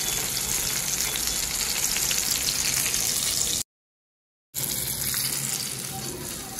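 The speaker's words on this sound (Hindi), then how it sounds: "फिर तेल में इस तरह फ्राई करें" Spice-coated Bombay duck fish fry in hot oil with a steady, close crackling sizzle, broken by a brief silent gap before the frying resumes.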